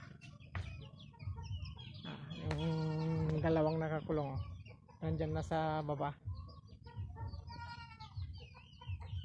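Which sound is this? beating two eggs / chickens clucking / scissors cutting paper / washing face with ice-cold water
chickens clucking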